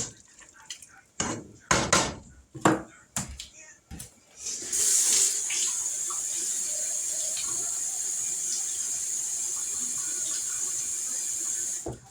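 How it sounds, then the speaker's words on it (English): Water being poured into a pot of beef vegetable soup, a steady loud rushing stream that runs for about seven seconds after a few sharp knocks and clatters of handling. "Now we're going to add some water."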